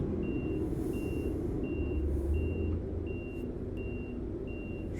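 A bus reverses in the Euro Truck Simulator 2 game, its backup alarm beeping in a steady, evenly spaced series of seven tones over a loud, low idling engine rumble.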